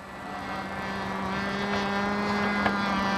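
Martin AM-1 Mauler model airplane in flight, a steady droning engine note with a tonal hum that holds level and grows slightly louder over a few seconds, heard at a moderate distance with no talk.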